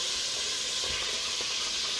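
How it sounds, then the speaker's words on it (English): A pot of meat for competition chili boils over, giving a steady, close, loud hiss and sizzle of liquid spilling onto the hot surface, with no talking. "now it's really boiling over"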